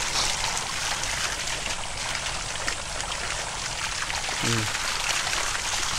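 Strong water rushes steadily at a rural farm, a continuous loud wash of flowing water, with a brief voice heard partway through.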